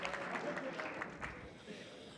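A church congregation at a Sunday worship service applauds its volunteers. The clapping is moderately loud and a little distant, then fades out within about a second and a half.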